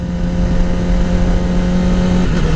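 Yamaha R6 sport bike engine running loud and close while a newly installed quick shifter is tested, a steady droning revving tone that dips slightly near the end.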